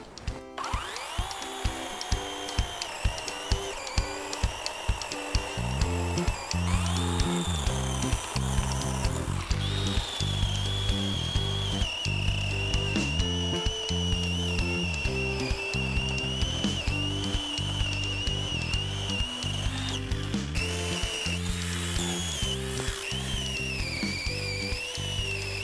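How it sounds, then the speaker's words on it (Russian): A power saw cutting through wood for a home DIY build, a long continuous whining drone with a shifting pitch under steady rapid clicking, loud and close with no talking. "Вот это мы будем сейчас пилить."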